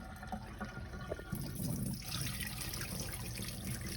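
Tap water runs into a bowl of black-eyed peas, a steady, fairly soft trickle and splash that swells a little partway through, close by, with no talk.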